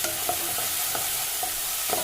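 Garlic paste fries in a pan with a soft steady sizzle, while a utensil stirs with light, evenly spaced taps and scrapes, close and without talk.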